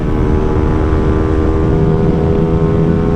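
Hyosung GT250R 250cc sport motorcycle engine running steady and loud up close, a dense continuous drone with no pauses and no voices.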